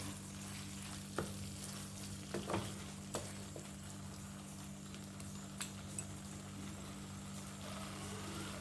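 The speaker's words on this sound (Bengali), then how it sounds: "ভালো করে মিশিয়ে দিচ্ছি" Banana flower and Gobindobhog rice curry with ghee is stirred in a pan, giving a soft continuous sizzle and scattered spoon taps over a steady low background hum.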